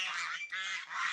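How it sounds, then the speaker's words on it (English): A flock of ducks in a rice field calling in a loud, close burst of harsh honking quacks that overlap in two or three swells, with no talking. "Another flock of ducks down here wandering around in the rice field."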